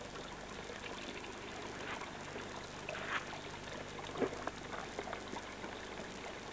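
Cold spring water at a source in North Macedonia pours and splashes steadily as containers are filled, a soft continuous trickle with a few louder splashes.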